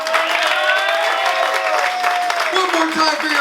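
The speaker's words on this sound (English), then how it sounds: "Give me a round of applause, y'all." Studio audience applause at a comedy show: a loud, continuous wash of many hands clapping with some crowd noise, while tonal voices sound over the top.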